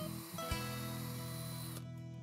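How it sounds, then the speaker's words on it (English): A power drill whirs while boring pilot holes near the corners of a southern pine post for a bird feeder, a steady close motor whine that holds for under two seconds and then cuts off. "drill pilot holes about 1 inch from each corner"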